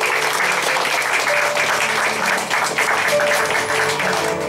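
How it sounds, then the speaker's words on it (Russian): Wedding guests applaud steadily at an outdoor marriage registration held at a restaurant, a dense, sustained wash of many hands clapping close by, with no voices on top. "Под ваши аплодисменты, дорогие друзья"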